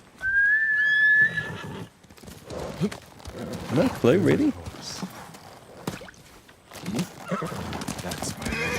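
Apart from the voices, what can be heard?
horse neighing in video game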